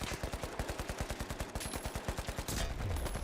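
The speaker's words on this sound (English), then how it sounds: "This is why you burst fire, folks." Rapid gunfire from a burst-fire weapon in the shooter game The Finals, a fast regular string of close, punchy shots lasting about two and a half seconds, followed by a brief rumbling impact and clatter.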